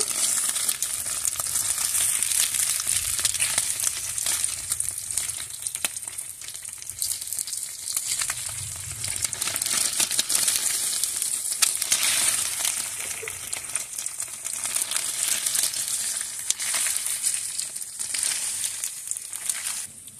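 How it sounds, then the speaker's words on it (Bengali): Pieces of steamed egg fry gently in oil for a Bengali alu dim vapa dish, a continuous moderate sizzle with occasional stirring scrapes and soft crackles, close and steady throughout. "আলতো আলতো করে ডিমগুলো আমি ভেজে নেব।"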